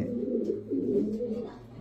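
Cooing from a foreign racing pigeon of a Bangladeshi racing club, a bird that has flown seven races, heard as a close, steady low murmur that runs through the whole short stretch.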